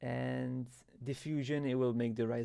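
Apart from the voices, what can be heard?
None of the usual background noises is heard.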